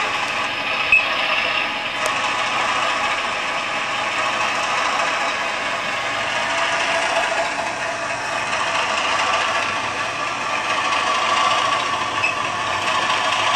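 Simulated train engine on PC model railway software, a steady broadband mechanical drone holding at a constant loudness throughout, without any clear rise or break.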